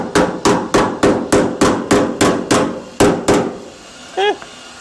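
Hammer blows on sheet metal while fitting a one-piece trunk panel on a 1970s Chevelle rebuild, about a dozen loud, close, evenly paced strikes with ringing metallic decay, followed by a brief voice.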